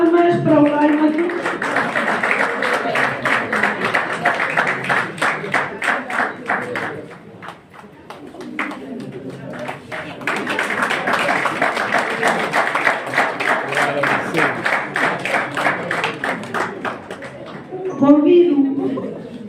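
An audience at a diploma ceremony for the first journalism graduates at CMICS claps in a steady, continuous patter that lasts most of the stretch, with voices talking over and between the applause.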